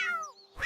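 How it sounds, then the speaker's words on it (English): A single cat meow used as a sound effect in a children's alphabet song, a clear drawn-out call followed by a short noisy burst. "C is for cat."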